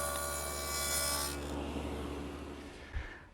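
A board is pushed through a table saw against a miter gauge, a loud whirring cut that fades into rough rubbing and scraping of wood, ending with a brief knock.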